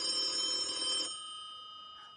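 A telephone rings on a celebrity TV game show set, a bright electronic ring that sounds for about a second, then a fainter lingering tone that fades, with no talking.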